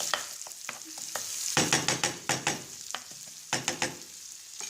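Onion and garlic fry in a pan for escalopes with mushrooms. Quick spoon stirs scrape and tap in bursts over a continuous close sizzle, and nobody speaks.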